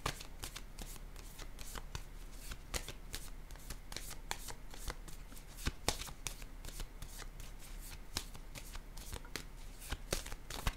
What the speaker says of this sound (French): Attendez, je vais piger une autre carte.